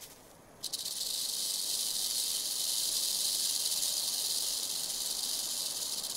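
A rattlesnake shakes its rattle in a steady, loud, continuous buzzing hiss that starts abruptly after a brief quiet moment and holds without pause to the end.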